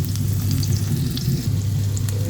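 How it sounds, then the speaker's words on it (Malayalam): Onions frying in coconut oil in an iron wok for a curry tempering, a faint steady crackle riding over a loud low droning hum throughout. "ഞാൻ അതിലേക്ക് ഉള്ളി ഇട്ട് കൊടുക്കുന്നുണ്ട്"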